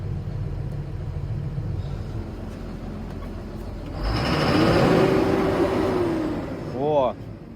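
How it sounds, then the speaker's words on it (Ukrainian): A tractor engine revs up loudly midway, a steady rising roar that swells and holds before fading, with a brief higher whine near the end; someone talks over the engine noise. "Добре газує."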